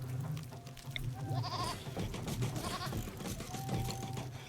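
A baby goat bleats in RimWorld, giving a few short, thin wavering cries over a steady low game background hum, moderately quiet, with no talking.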